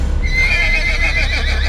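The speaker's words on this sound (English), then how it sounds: "all the horses began neighing aggressively before they galloped off, startled" Horses neighing aggressively and startled, a loud, close, drawn-out whinny over a rumbling background with faint hoof movement, no talking.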